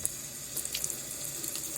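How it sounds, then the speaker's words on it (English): A spoon is rinsed under a running kitchen tap, producing a steady, close stream of water splashing into the sink with light clinks. "Just go rinse it off, like right now."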